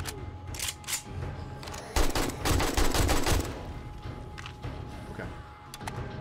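Gunfire in the survival video game 7 Days To Die: a few isolated shots, then a dense burst of rapid fire lasting about a second and a half, followed by scattered single shots, with a faint background hum.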